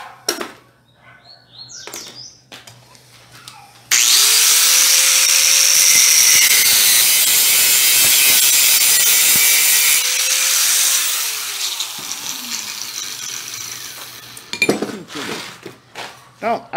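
A 19 mm outer-diameter tube being hand-sawn to cut a 20 cm piece. The steady, loud, close rasp of sawing runs for about eight seconds between quiet stretches.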